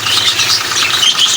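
A self-service coin-operated car wash machine runs with its 1.5 horsepower electric motor and a Kawasaki pump, giving a steady, loud mechanical hum with a rough, noisy texture and no break.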